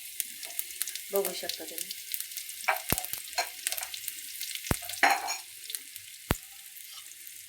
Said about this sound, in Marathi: अशी मोहरी चांगली फुटू द्यायची बरं का तेलात. मग लसूण टाकायचा.